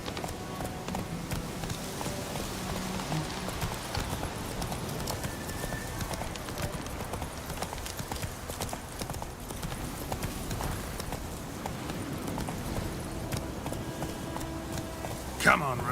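Galloping horse hooves in the video game The Witcher 3, a rapid, even clip-clop under a constant rushing background, with speech mixed in and a sharp sound near the end.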